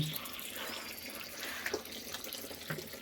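Hands washed under a running tap at a sink, a steady close wash of water with light splashes and drips, no voices.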